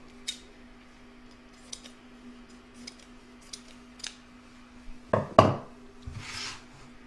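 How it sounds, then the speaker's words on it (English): Scissors snip a piece of cutaway embroidery stabilizer in a series of separate crisp cuts, spaced apart and then bunched together, followed by a soft rustle of the material, close and clear in a quiet room. "I'm going to cut a piece of cutaway that's going to sit on top."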